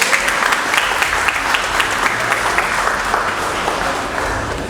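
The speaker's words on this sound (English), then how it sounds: "Can you give me a round of applause for yourself?" An audience at a book launch applauds, with dense, steady clapping from a full room that holds loud for several seconds and fades slightly toward the end.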